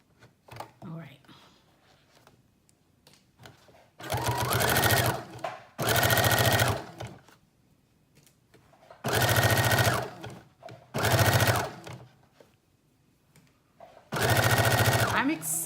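A sewing machine stitches a 5/8 inch seam on the back neck piece of a teddy bear jacket in five short, loud bursts separated by quiet pauses.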